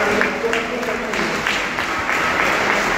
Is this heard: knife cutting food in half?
no